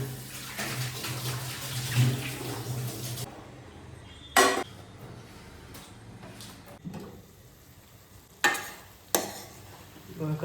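Dishes rinsed quickly under a running kitchen tap at home: a steady rush of water for about three seconds, then quieter dripping with a few sharp clinks and clatters of utensils, no talking.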